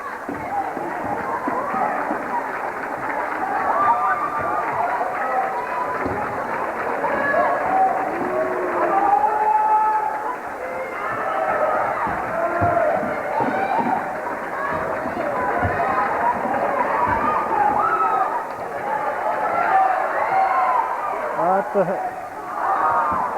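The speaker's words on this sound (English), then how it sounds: "Good crowd here, a rowdy crowd for the Cougars." A rowdy crowd fills a gym at a girls' high school basketball game, with a constant murmur of cheering and chatter, sneaker squeaks and running footsteps, and a commentator talking over it throughout.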